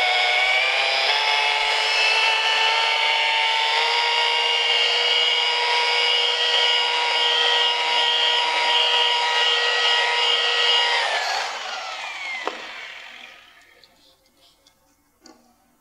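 A rotary polishing machine with a purple foam wool pad and compound buffs swirls from a curved car panel. Its loud, steady motor whine holds for about eleven seconds, then winds down and stops.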